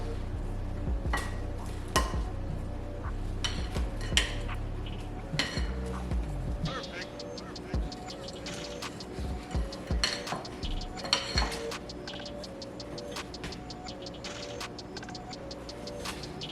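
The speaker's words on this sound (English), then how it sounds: "I'm tired of mixing, and I didn't want to clean up the mess that I knew my mixer would make" A spoon working thick blondie batter by hand in a bowl: repeated clinks and scraping knocks in an uneven rhythm, close and moderately loud, with a low steady hum under them early on.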